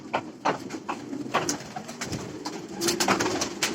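Racing pigeons, hens and cocks together in a loft during pairing, cooing close by in repeated soft throaty calls with scattered rustling and wing sounds, no talking.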